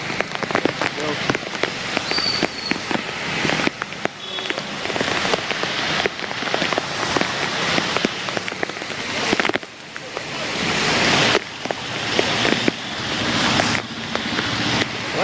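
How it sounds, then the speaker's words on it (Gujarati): Heavy monsoon rain pours down steadily in Junagadh, Gujarat, a loud dense hiss with surging gusts and spattering drops close by. "વરસાદ જરા જરા ધીમો પડ્યો"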